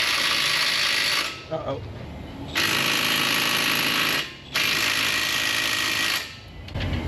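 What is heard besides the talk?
right-angle ratchet on caliper pad bracket bolt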